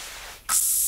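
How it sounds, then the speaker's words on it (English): Scent spray from a hunting game, theHunter: Call of the Wild, going off in one loud, steady hissing burst that starts about halfway through and runs to the end, with nothing else heard. "I'm gonna spray up again."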